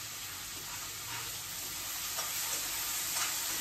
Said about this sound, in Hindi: अब इसमें डाल दे रही हूँ प्याज। हल्दी और वही किचन क्यूब मसाला, थोड़ा सा लाल मिर्च।